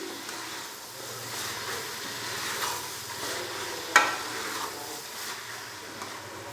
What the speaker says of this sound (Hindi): 2 से 3 मिनट के लिए इनको कुक कर लेंगे या कि इनको भून लेंगे।